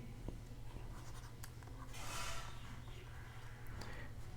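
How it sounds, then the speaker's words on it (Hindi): Marker or chalk scratching across a board in a quiet room, a few short strokes and one longer sustained stroke, faint and close, with steady low hum beneath and no talking. "मैं लिख देता हूं यहां पे,"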